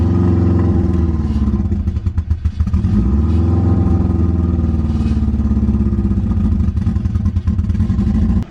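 A Subaru WRX engine running close by, a loud low rumble that stumbles and wavers unevenly as it idles roughly.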